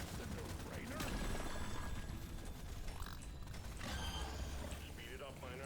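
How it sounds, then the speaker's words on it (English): The LEADSTORM minigun in the video game Deep Rock Galactic: Survivor reloads with clanking, ratcheting mechanical clicks amid continuous dense game effects and music, with a voice talking over it. "Pretty big reload."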